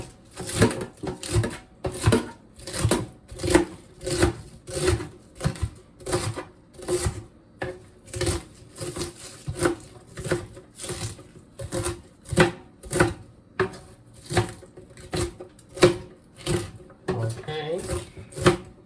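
Knife chopping vegetables on a board for a catfish and shrimp stir fry, steady rapid knocks repeating throughout, close and fairly loud, with a voice talking at times.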